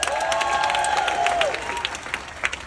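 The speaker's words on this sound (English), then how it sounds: "by round of applause, how many of y'all are excited for Family Feud Live?" Audience at a Family Feud Live show aboard a Carnival Spirit cruise breaks into sustained applause and cheering, a dense crowd roar with a few whoops rising above the clapping throughout.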